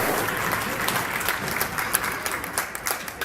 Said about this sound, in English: The crowd reluctantly claps.